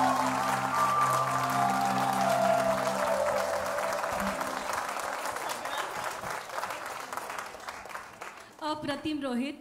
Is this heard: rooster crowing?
no